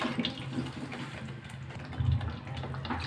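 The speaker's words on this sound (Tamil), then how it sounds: "1 கப் போல் தண்ணி சேர்க்குறேன்" Water runs and splashes steadily into a pot, a soft continuous gurgling pour at close range.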